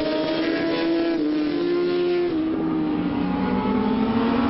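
A racing motorcycle at an Anglesey endurance race, ridden in the Junior 1000s class, roars past loud and close with a sustained high engine note that drops slightly in pitch midway.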